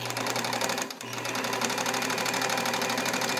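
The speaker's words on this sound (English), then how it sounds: "I'll start out with a long straight stitch, which is what I like to do when I'm demonstrating the stitch quality of any machine." A restored all-metal Necchi BU Nova vintage sewing machine runs a long straight stitch at steady speed, its needle mechanism whirring and clattering continuously and close up, with one brief pause near the start before it resumes.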